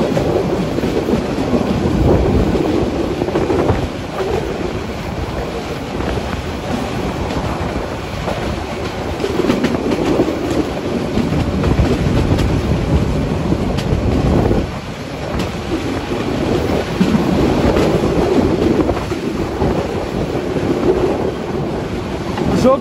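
A train runs through a small station in Bangladesh near Ullapara, with a loud, continuous rumbling clatter of wheels and cars, some wind buffeting, and brief dips in level partway through.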